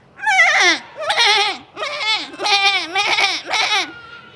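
A human voice imitates a goat bleating, six wavering, quavering bleats in a row, close and loud, with short pauses between them.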